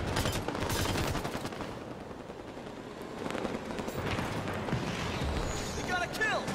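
Gunfire in the Halo 5 Warzone video game rattles continuously in rapid automatic bursts mixed with heavier booms, a dense battlefield din with in-game voices speaking over it.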